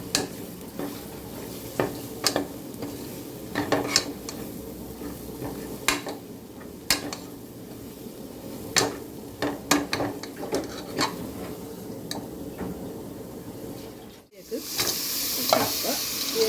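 Spiced tapioca mixture is stirred in a pan with a low sizzle, punctuated by irregular spoon scrapes and taps against the metal, then a sudden louder hiss near the end.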